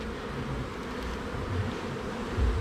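Honeybees buzzing around an opened hive during inspection, a soft, steady close drone with occasional louder passes of individual bees.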